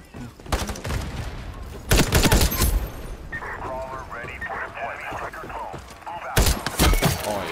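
Bursts of gunfire from an M39 EMR marksman rifle in the shooter game Ironsight, with loud broadband cracks at the start, around two seconds and again near six and a half seconds, separated by game noise and talk.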